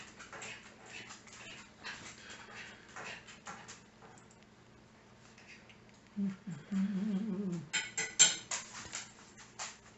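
A dog panting in a room, quick soft breaths under light clinks of dishes and cutlery, with a brief whimper partway through.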